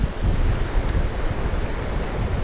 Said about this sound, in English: it is windy, so excuse me for the wind